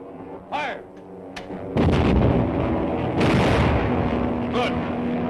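Heavy guns fire on command in a 1937 Dick Tracy serial, opening with a few sharp isolated shots before a loud, sustained roar of booming fire and rumble that carries through to the end.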